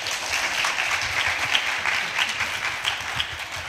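Forum attendees at an international open government event give the presenters sustained applause, a continuous wash of clapping of moderate loudness with a few sharper individual claps standing out.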